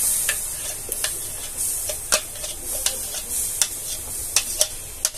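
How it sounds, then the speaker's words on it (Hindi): Ground mango pulp goes into a pan and is stirred, with a soft hiss under irregular light ticks and taps of the spoon against the pan, close and quiet. "मैंने एक पैन लिया है, उसमें मैं डालूंगी ये पिसा हुआ आम।"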